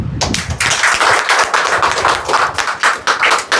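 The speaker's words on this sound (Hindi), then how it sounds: "ताली बजा के" A prayer meeting congregation claps hands together in thanksgiving, loud, close and rhythmic, with repeated sharp, fairly regular claps in quick succession and brief uneven gaps.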